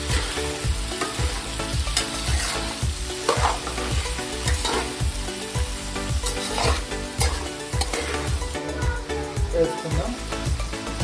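Vegetable dum biryani mixture being stirred in a pan, steady scraping and sizzling with rhythmic spoon strokes throughout, close and moderately loud, with no voices over it.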